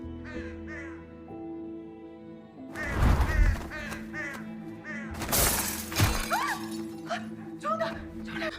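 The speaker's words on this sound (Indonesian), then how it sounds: "seekor burung gagak tiba-tiba terbang tak terkendali, masuk ke dalam rumah dan menghantam lampu hingga pecah" A crow in a Korean horror film flies out of control into a house, cawing harshly before two loud crashes of a lamp shattering, with bursts of breaking glass over a tonal music bed and voices.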